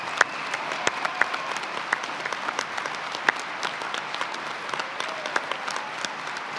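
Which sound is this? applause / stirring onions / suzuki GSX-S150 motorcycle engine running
applause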